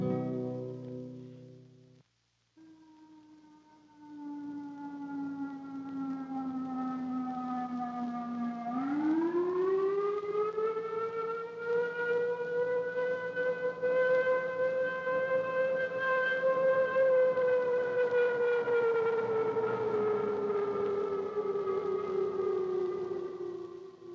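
An emergency civil defense siren wails alone for a long stretch, its pitch sinking, dropping out briefly, then sweeping back up and holding a loud, steady droning howl.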